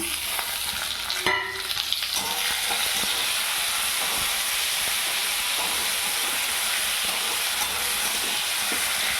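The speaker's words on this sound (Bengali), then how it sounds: "এবার এটার মধ্যে আমি টমেটো আর লঙ্কাটা দিয়ে দিচ্ছি" Tomato and chili tipped into onions already frying in oil for a pointed gourd and prawn curry, giving a steady close sizzle with a brief sharp burst early on as they hit the pan.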